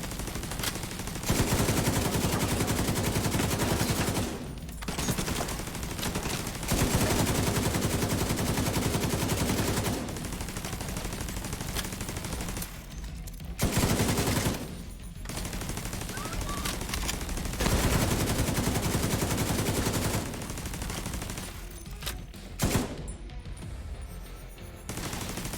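Rapid turret gunfire in The Division 2 District Arena stronghold fight, loud sustained automatic bursts broken by short pauses, with little or no talk.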